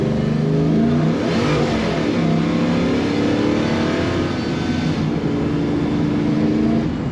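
A 1970 Chevrolet C10 shortbox pickup accelerates hard, its engine giving a loud, raspy, rising note that holds strong and close throughout with no speech.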